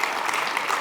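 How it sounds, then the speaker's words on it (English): Audience applause at a 2024 conversation event with author John Edgar Wideman, a short steady burst of clapping throughout, fairly close and even. "clap it up for him"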